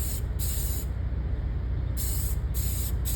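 An aerosol spray can lays a protective coating onto a 13-inch drum and rim on a 14-bolt 10.5-inch full-floating axle, in repeated close hissing bursts separated by short pauses.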